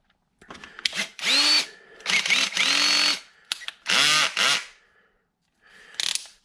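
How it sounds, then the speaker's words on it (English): A Ridgid 18V cordless drill/driver drives screws in several short, close whirring bursts, each rising in pitch and separated by brief pauses, with small clicks and handling sounds between runs. "You can drive a lot of screws in pretty quick and not have to worry about over tightening them."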